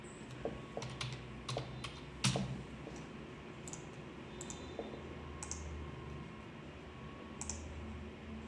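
Light, irregular clicks of a computer keyboard being typed on, scattered keystrokes at close range with a few louder taps, alone over a quiet room hum.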